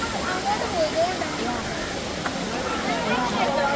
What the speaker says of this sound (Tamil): இதிலேருந்து தான் இந்த ஃபால்ஸ் கீழே வருது